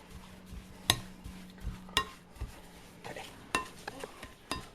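Butter and sugar being creamed by hand for cake batter give off a series of irregular spoon-against-bowl clinks and scrapes, several sharp taps spaced about a second apart over soft, close mixing noise.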